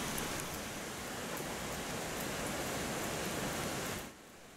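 Rain falls near a hotel beside a swollen, muddy mountain river in flood, a dense steady hiss and rush of water that cuts off abruptly at the end.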